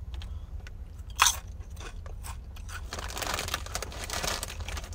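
Close, crisp crunches of someone biting and chewing spicy chili pepper chips, with a sharp bite near the start and steady crackly chewing throughout, no talking.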